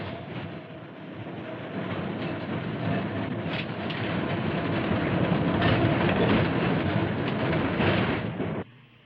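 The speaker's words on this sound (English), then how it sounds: "And the train heading back on the main line towards San Francisco." Key System electric train heading along the main line toward San Francisco, a continuous rumbling roar of wheels and motors that holds steady for about nine seconds before dropping away abruptly.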